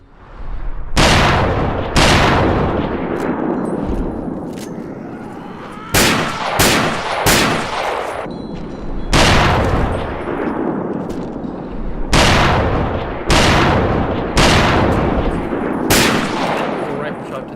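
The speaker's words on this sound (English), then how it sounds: "that was multiple rifle shots to the head" Rifle gunshots in Fallout 3, loud sharp cracks fired singly and in quick clusters, spaced across the stretch with short ringing decays between them.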